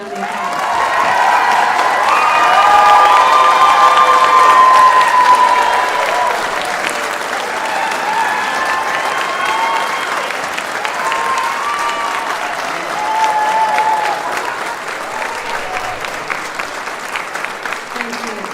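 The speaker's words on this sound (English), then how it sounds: "let's give them one more round of applause" Sustained applause from an audience at a college fine arts and communication honors ceremony as scholars stand, loud and dense, swelling over the first few seconds and then continuing steadily with a slight lift near the end.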